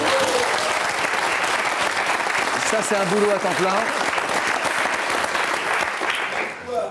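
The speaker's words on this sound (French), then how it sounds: "Je demande à monsieur d'être applaudi par le public" A studio audience on a French talk show applauds steadily throughout, dense clapping carrying on while a voice speaks briefly over it midway.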